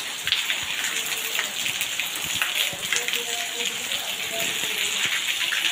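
Heavy rain pours steadily on a village, a dense continuous hiss of drops on surfaces with scattered louder spatters, close and unbroken throughout.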